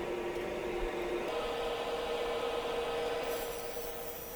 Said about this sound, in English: using the skew chisel to make sure that the mortise is flat